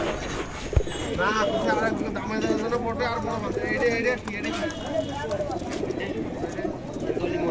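Pigeons coo and call among a busy crowd at a weekly pigeon market in Magura, soft repeated warbling coos beneath near-constant chatter from people talking nearby.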